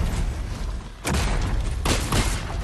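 Fortnite gunfire plays as dense, loud bursts of rapid shots and booms. A steady battle rumble fills the background, and the bursts intensify about one second in and again near the two-second mark.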